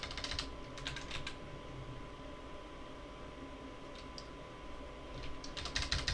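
Keys clatter on a computer keyboard in short bursts of rapid typing separated by pauses, over a steady background hiss and hum, with no talking.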